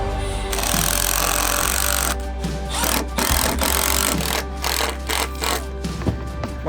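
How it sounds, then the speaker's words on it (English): An impact driver fastening parts of a wooden backyard playset, giving a loud, dense mechanical rattle that runs steadily with a few brief pauses and restarts, close by and without talk. "Yeah, impact driver, be careful."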